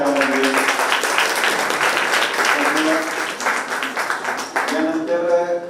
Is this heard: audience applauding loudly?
yes